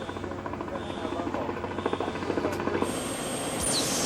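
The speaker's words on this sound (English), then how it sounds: "There's an unscheduled helicopter approaching." Unscheduled helicopter drawing nearer, its rotor chopping as a steady rhythmic thrum that slowly grows louder over a hissy background, with a brief high tone near the end.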